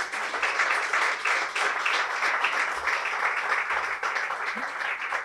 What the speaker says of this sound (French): on peut donner une belle main d'applaudissement à tous ceux qui ont travaillé derrière la réalisation de ce beau projet